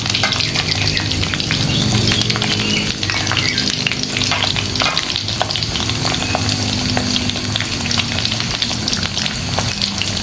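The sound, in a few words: salted fish frying in a pan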